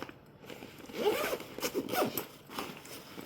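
A zipper on a Decathlon shoe-and-water-bottle travel bag is pulled open in a few short, quick strokes, close and fairly quiet, with soft rustling between pulls.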